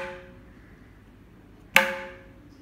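A single sharp mridangam stroke played with only the index finger, one crisp, ringing attack that decays quickly, with a faint ringing tail from an earlier stroke at the start.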